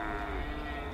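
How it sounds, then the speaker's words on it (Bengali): Two cows give a strange, drawn-out lowing cry at night in a rural village scene, a single steady droning call heard up close for about a second. "গরু দুটো সাথে সাথেই একটা অদ্ভুত শব্দ করে থেমে গেল"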